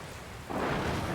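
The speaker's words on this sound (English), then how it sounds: "Oh, we got a storm coming in. Where did this rain come from?" In Dragon Quest Builders 2, a rainstorm with thunder swells abruptly halfway through into a heavier, rumbling downpour over a softer patter of rain.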